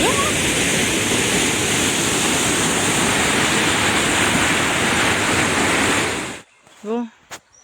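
Loud, steady rushing water roars close by at a spot where a waterfall was expected on a winter road trip, then cuts off abruptly, followed by a brief voice.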